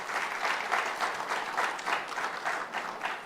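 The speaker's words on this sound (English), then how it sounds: "Please welcome them with a big round of applause." An audience at a talk on the great Mughals applauds to welcome the speakers, a steady, dense roar of many hands clapping at moderate volume, unbroken for several seconds with no talking.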